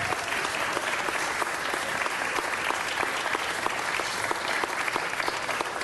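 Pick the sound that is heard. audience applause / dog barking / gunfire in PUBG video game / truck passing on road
audience applause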